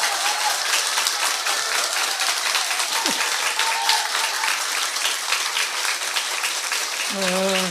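Warm, sustained applause from a church congregation at a revival meeting, a dense wash of clapping filling the room throughout, with a few voices and a short sung or spoken tone rising near the end.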